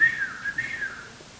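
A person whistles a marching tune as a signal in Lady Gregory's play The Rising of the Moon, a clear, close, wavering melodic line heard alone.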